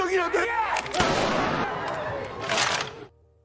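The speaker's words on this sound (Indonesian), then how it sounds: "para staf langsung menembakkan pistol peringatan" Staff in a film fire warning pistol shots, with two loud sharp bursts, the second a little later, over agitated voices and background commotion, then sudden quiet.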